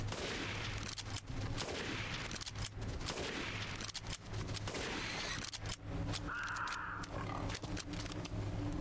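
Gunfire rattles through a fight in the video game Resident Evil Village, dense rapid shots layered over a loud, busy game soundscape with no pauses.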